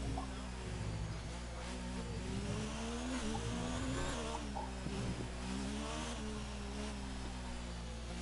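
An F1 car in a Spanish Grand Prix racing video game braking hard into a corner, its engine note dropping and wavering under a steady wash of engine and tire noise, continuous and fairly faint.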